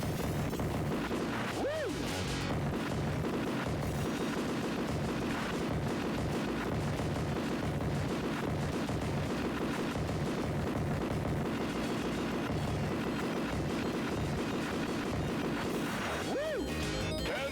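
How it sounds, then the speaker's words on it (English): Shrapnel blasts and explosions from the 1990 arcade game Smash TV burst amid a dense, continuous wash of game noise, with sharp crashing hits near the start and end over constant chaotic effects. "Oh, I got hit by that shrapnel blast."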